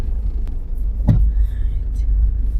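A car passes on a busy street in Jamaica, heard as a steady low road rumble with a brief swell as it goes by, fairly close, under faint background noise.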